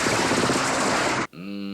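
A dense burst of rapid automatic gunfire from the James Bond film You Only Live Twice rattles loudly for just over a second, then cuts off abruptly into a sustained tonal hum.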